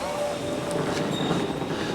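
A train at Reading railway station rumbles steadily and loud, with a faint high wheel squeal and metallic rail noise throughout the short stretch.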